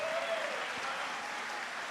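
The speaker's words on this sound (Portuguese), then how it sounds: "Uma salva de palmas para vocês." A conference audience claps at the close of a talk on productivity, a brief, even burst of applause with a faint voice briefly audible at the start.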